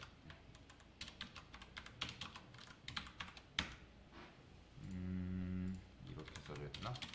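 Typing on a computer keyboard while writing SQL for MariaDB, irregular close clacks and quick bursts with a brief steady hum partway through, accompanied by soft talking.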